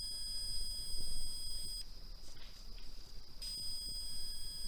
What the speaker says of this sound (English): the REM pod just stopped beeping and started beeping again when I asked that